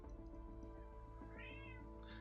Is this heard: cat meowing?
yes